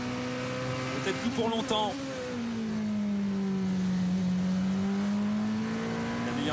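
A Porsche race car on a qualifying lap at the Qatar 1812 km, its engine holding a steady drone in the distance that rises and falls as it accelerates, under French commentary.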